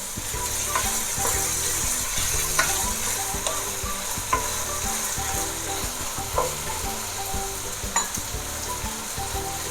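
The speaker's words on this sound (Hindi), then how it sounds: "2 से 3 मिनट मैंने इसको फ्राई कर लिए" Ingredients for spicy chicken spaghetti, sweetened with powdered sugar, fry in a pan. A busy, close sizzle runs under repeated stirring scrapes and clinks of a utensil.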